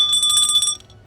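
A notification bell sound effect rings out in a quick burst of bright, repeated chimes, loud and close, then fades with one short final ding.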